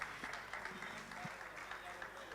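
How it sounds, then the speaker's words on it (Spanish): Faint, continuous clapping from a panel audience, heard at a distance with some indistinct voices mixed in. "Les pido un fuerte aplauso para ellos"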